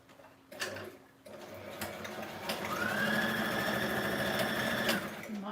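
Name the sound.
sewing machine stitching fabric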